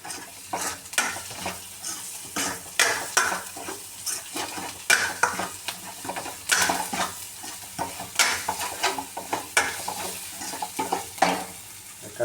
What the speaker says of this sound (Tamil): நல்லா மிக்ஸ் பண்ணி விட்டுருவோம்.